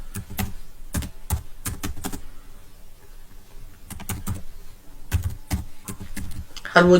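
Fast bursts of typing on a computer keyboard as a form name is entered in Google Forms, close and crisp, in clustered runs of keystrokes separated by short pauses.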